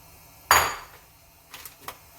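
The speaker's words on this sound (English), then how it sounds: "I'm just going to go ahead and put in the shrimp." Shrimp drop into a pan of oil with a sharp metallic clatter and brief sizzle, followed by a couple of lighter clinks of utensil against the pan.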